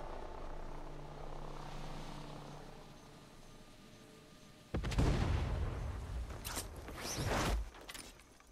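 An aircraft in the Far Cry 6 video game roars past in restricted airspace, starting as a rumbling drone and swelling into a loud, close, turbulent rush with sharp bursts near the end.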